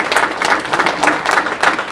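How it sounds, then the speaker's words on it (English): Audience at a realtors' association breakfast meeting giving a loud, sustained round of applause, many hands clapping densely and close by. "So give them a round of applause."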